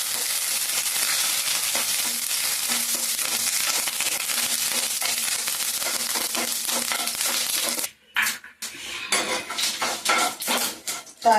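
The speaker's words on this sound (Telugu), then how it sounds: "ఇదిగోండి తాలింపు అయితే వేగుతా ఉంది కదా, వేగిపోయింది. ఇందులో కరివేపాకు వేస్తున్నాం." Curry leaves go into hot oil for a tempering, which crackles and sizzles loudly and steadily up close, then breaks into sharp spatters and clatters toward the end.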